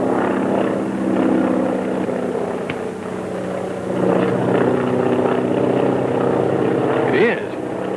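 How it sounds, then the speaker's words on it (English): A propeller airplane approaches in an old 1939 adventure serial, its droning engine hum growing slightly louder and wavering, with a brief sharp click partway through and no talking. "Sounds like it might be Brack's plane."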